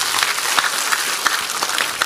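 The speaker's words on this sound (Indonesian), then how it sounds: "Beri tepuk tangan yang meriah buat Tuhan." A church congregation clapping together, a dense burst of hand claps filling the room at steady strength, no talk over it.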